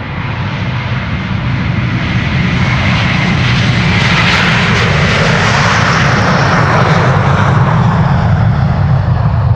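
A Delta Air Lines Airbus A330-300 jet departs from a large airport, its engines producing a loud, continuous roar that builds steadily and stays close and dominant for the whole stretch.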